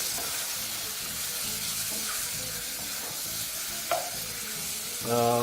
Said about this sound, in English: proceed to add your onions into your pan and continue to mix through